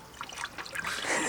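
Coolant pours into a car with a soft, continuous trickle and splatter of liquid, quiet and brief, with no talking.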